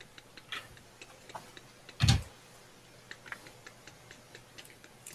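Faint, sparse ticks and clicks of a mechanism being turned carefully, irregular and close, with one louder knock in the middle and no talking.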